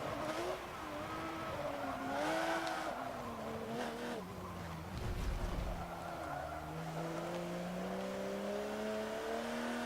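Race cars, including an Audi, in Forza Motorsport 7 accelerate with rising and falling engine whines and brief tire squeals, loud and close, continuing throughout without talk.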